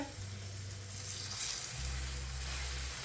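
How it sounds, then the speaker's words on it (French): Steak searing in a frying pan, a steady close sizzle and frying hiss running throughout with low rumbling underneath, no talking. "j'ai saisi ma viande un petit peu"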